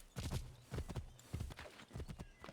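Horse hooves clop in Assassin's Creed 3 Remastered, the video game, in several quick bursts of galloping strikes over about two and a half seconds, loud and close with no talk over them.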